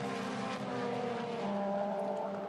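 Formula Renault 2.0 single-seater race cars at the Red Bull Ring make a sustained, droning engine roar that holds steady and loud throughout, with no talking.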